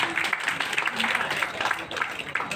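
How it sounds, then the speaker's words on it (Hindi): An audience at a Rotary Club district governor's visit in Darbhanga breaks into applause, a rippling burst of clapping mixed with murmuring voices. "एक जोरदार ताली दीजिए भाई।"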